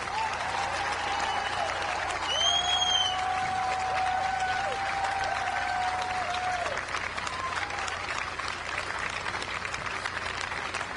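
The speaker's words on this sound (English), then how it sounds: "They deserve our applause." An audience at a political rally in New York gives sustained applause, a dense wash of clapping with a couple of short whistles cutting through near the start.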